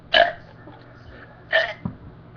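A person lets out two short, sharp burps about a second and a half apart, close and fairly loud, followed by a faint low grunt.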